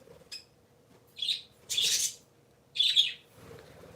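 Pet parakeets chirp in short, bright bursts, three or four separate calls spaced across a few seconds, fairly close over a quiet indoor background with no talking.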